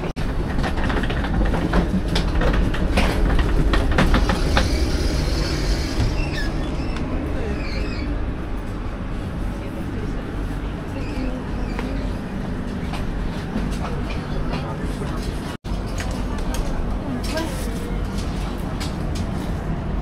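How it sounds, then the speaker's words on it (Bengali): A super-fast European passenger train runs on its rails, giving a steady, loud, broadband rumble and rattle throughout, with faint voices in the background. "এটা সুপার ফাস্ট ট্রেন"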